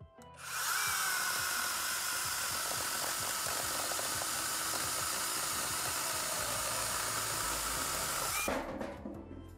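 An APROTII mini battery chainsaw with a lubricated chain cuts through a small log about 6 by 8 in diameter. A loud, steady high-pitched motor whine and chain rasp runs for about eight seconds, then cuts off abruptly.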